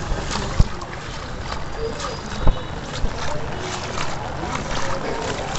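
A scooter rolls through a flooded street during heavy rain in Hardoi, its splashing and churning water blending with steady rain and wind noise, with two sharp knocks standing out nearby.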